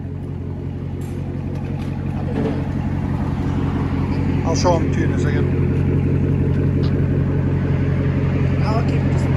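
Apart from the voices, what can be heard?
2017 Chevy Corvette Z/51 Stingray LT1 dual exhaust with straight pipes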